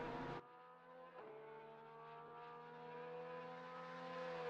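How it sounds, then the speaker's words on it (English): A Porsche GT3 race car engine in Assetto Corsa Competizione at Oulton Park roars steadily with a rich harmonic tone, briefly dropping pitch as it shifts gear, then climbing and sustaining a loud, close drone throughout. "You hear that Porsche."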